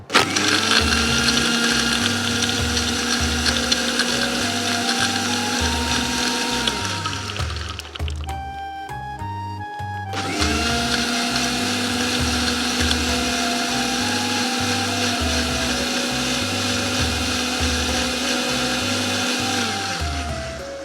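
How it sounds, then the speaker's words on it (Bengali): A blender crushes ice with watermelon and mint, running loud and steady with a grinding, rattling motor. It cuts out briefly around the middle, then starts again and runs to the end. "আস্তে আস্তে 1 থেকে 2 সেকেন্ডের মতো ব্লেন্ড করে একটু ছেড়ে দেবো"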